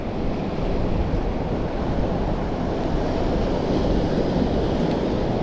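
Wind and breaking surf on the north coast of Fuerteventura near Majanicho, a steady, loud, unbroken roar of rushing air and waves with wind buffeting the microphone throughout.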